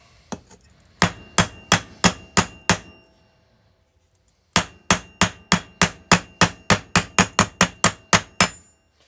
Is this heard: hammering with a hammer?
yes